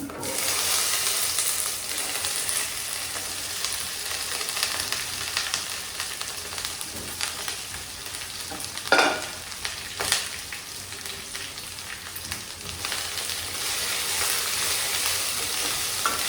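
Cut okra (bendakaya) fries in a pan with cumin, giving a steady broadband sizzle while a spoon stirs and scrapes in a few louder clatters near the middle, close and continuous with no talking.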